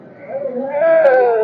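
Sheep at a Sunday livestock market give a rising, wavering bleat that swells louder toward the end. It sounds close and fairly loud, overlapping with someone talking.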